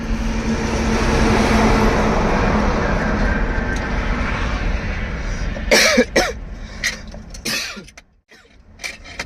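Inside a truck cab, after a steady rumbling background, a few sharp coughs break out near the end, followed by quieter moments.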